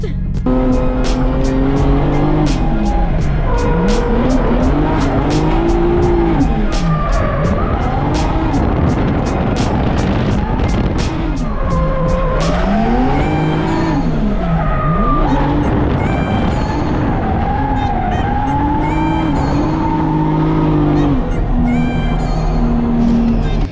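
A JZX100 with a 2JZ engine runs laps at Nishi circuit in Japan, its engine loud and close as revs rise and fall through repeated shifts, with long tire squeals as it slides through corners.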